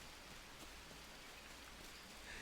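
Steady rain falls in the jungle survival game Green Hell, a soft, even hiss of drops on the ground and on shelter. It is quiet and unbroken throughout, with no voices.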